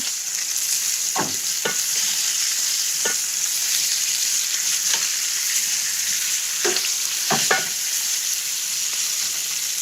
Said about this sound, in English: While the lamb is kind of cooking away